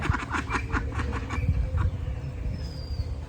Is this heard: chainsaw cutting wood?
no